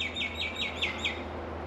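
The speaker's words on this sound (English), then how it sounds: "stupid birds" Birds chirping outdoors in hot Australian weather, a quick rhythmic series of about six sharp repeated tweets over steady background hum.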